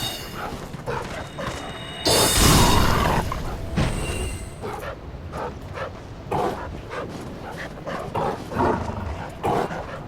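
A dog in the video game Dark Souls III barks and yips in a run of sharp, loud bursts, with a longer harsh outburst early on and quicker barks repeating close by until the end.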